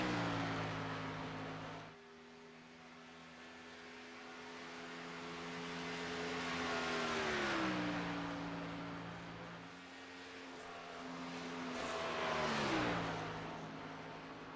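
A race car engine in a stock-car racing video game climbs through its revs as it accelerates onto the Pocono track, a loud sustained whine that steps through gear shifts and then builds again, with no voices.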